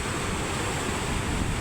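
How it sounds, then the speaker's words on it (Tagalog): Large sea waves crash and roar continuously along a fishing shore at dawn, a steady loud broadband surf close by with no talking. "Lalaki ng alon."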